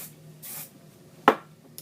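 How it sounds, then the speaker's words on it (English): Hairspray sprayed onto hair while styling a ponytail: a soft short hiss, then a sharper close burst, and another brief spritz starting at the very end, quiet and without talk. "Now I'm just going to go ahead and spray it with hairspray."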